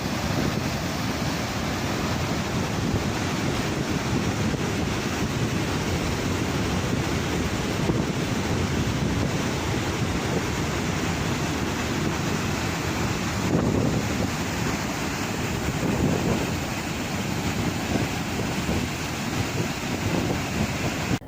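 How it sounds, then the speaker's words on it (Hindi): Water released from the Ranganayaka Sagar reservoir into the Mallanna Sagar reservoir of the Kaleshwaram project roars in a steady, dense rush, mixed with wind buffeting the microphone and no voices. "कालेश्वरम के रंगनायका सागर रिजर्वायर से मल्लाना सागर रिजर्वायर में पानी छोड़ने के मनाजिर देखे जा रहे हैं।"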